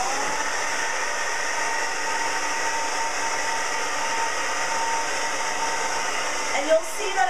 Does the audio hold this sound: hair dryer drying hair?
yes